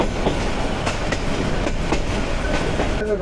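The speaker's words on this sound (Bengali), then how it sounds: "ট্রেন স্লো হয়ে যাচ্ছে, সামনে ব্রিজের একটা কাজ আছে" Inside a Balaka commuter train of Bangladesh Railway as it slows near a bridge under repair, a loud continuous rumble with rhythmic clickety-clack of wheels over rail joints and a faint squeal near the end.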